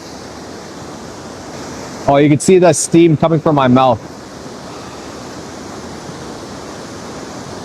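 A waterfall pours outdoors on a cold day, a steady broadband rush that runs evenly through the whole stretch, with a person talking briefly over it in the middle.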